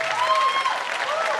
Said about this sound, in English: I think he deserves a bigger round of applause.